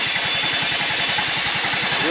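A small $50 engine idling low and steady after a cold early-morning start, its rapid even pulsing close and continuous with no talk over it.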